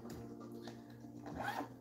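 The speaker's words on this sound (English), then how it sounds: "it zips up tight if you don't want to be using it, and then it zips open just to have something in there" A JFlowers Trojan 3x4 pool cue case zipper drawn close by in one short, smooth, rasping pull that brightens toward the end.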